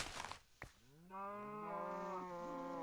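Cows moo in the Minecraft video game: a short clatter of game noise first, then one long, steady, loud bovine moo with a clear tone that holds to the end.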